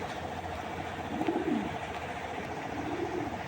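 A pair of racer pigeons coos softly, giving a few low, rolling coos over a steady background hum, with no one talking.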